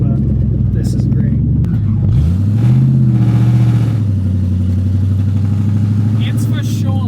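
Lexus LS car engine idling, then revving up once with a rising and falling roar before settling back to a steady idle, close and loud while people talk over it.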